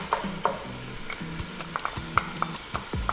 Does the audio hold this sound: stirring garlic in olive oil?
yes